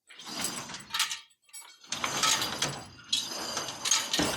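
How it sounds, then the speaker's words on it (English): A door slides and rolls shut in several rattling mechanical bursts separated by short pauses. It sounds close and moderately loud. "The door's closed."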